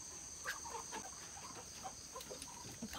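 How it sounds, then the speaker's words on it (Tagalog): Scattered clucks and calls from farm fowl over a constant high insect-like drone, a mix of chickens and ducks stirring at a moderate distance in the Philippine countryside. "Gising na yung mga bibi, tsaka manok"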